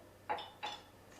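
Fennel, orange and shallot salad being tossed with dressing in a bowl: two quick, faint clinks of a utensil against dishware, close by in a quiet room, with no talking.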